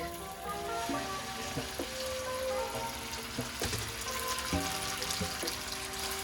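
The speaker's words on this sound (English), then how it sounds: "And now it's time to add our pasta to the oil and garlic." Drained pasta hits hot oil and garlic in a pan, giving a steady, loud sizzle and crackle with wet spattering throughout, with no talking over it.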